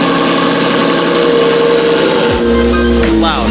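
A Lamborghini Murcielago LP640 with a gated manual shifter rumbles steadily up close as it pulls out of a garage, its deep engine note shifting and dropping near the end.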